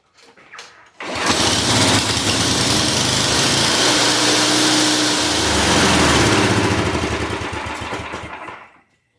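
A curb-find snow blower with a badly leaking fuel system starts abruptly and runs at a loud, steady, buzzing small-engine pitch, then dips and fades as it winds down near the end.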